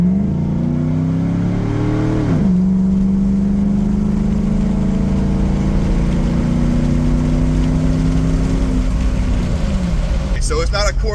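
A 2007 Chevy Tahoe with a 5.3 V8 and an Ares cold air intake accelerates hard from a 20 mph roll, its loud engine note climbing, dropping at a shift, then rising steadily again until it eases off near the end.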